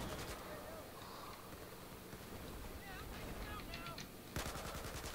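Gunfire crackles in Battlefield 4, with rapid distant bursts over a windy, rumbling background and a sharper, louder volley near the end.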